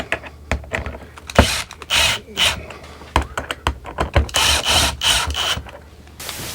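Screws being driven into a lid with a power drill, in short bursts of mechanical whirring and rubbing against wood-like material, with bangs and handling noises in between.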